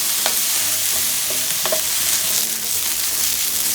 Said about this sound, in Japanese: 最初は中火でガンガン炒めていきましょう。